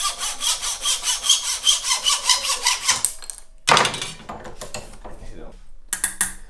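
A hand saw cuts wood, squaring the end graft of an acoustic guitar, in a quick, even run of about fourteen close, rasping strokes, then a pause and a few slower, scattered strokes.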